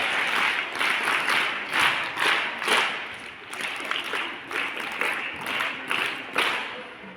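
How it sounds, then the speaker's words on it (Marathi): Loud, sustained applause fills a primary school's prize ceremony for meritorious students, many hands clapping in lively waves that swell and dip over several seconds. "त्यामुळे समर्थसाठी आणि वेदांतसाठी आपण जोरात टाळ्या वाजवूयात"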